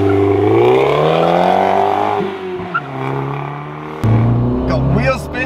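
An AE86 Corolla and a hot hatch launch from a standstill with wheel spin: loud engines rev and climb in pitch under tyre noise, with people talking over the roar.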